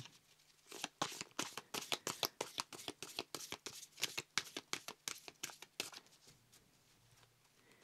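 Oracle cards shuffled by hand, a quick run of crisp riffling flicks about two per second, close and soft, with no voices.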